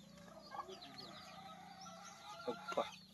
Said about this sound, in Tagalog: Ayun, yung mga manok natin.